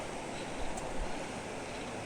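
Water from a creek rushes in a continuous, even broadband wash, close and steady with no voices.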